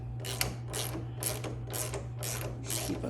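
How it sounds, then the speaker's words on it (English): A ratchet with a 19mm socket unscrews the top cap of a Yamaha YZ250 SSS fork held in a vise. Five quick bursts of rapid metallic clicking sound up close at an even rhythm. "you're going to get your 19mm socket, and you're going to take this top cap off"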